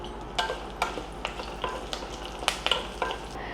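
Curry leaves sizzle in hot tempering oil with mustard seeds and cumin, a steady crackle broken by sharp pops and spatters, close up and with no voices.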